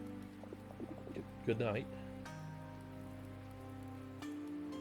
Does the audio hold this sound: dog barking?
no